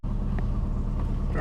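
A Honda engine idles while warming up, a low steady rumble close by with faint background noise and no talk.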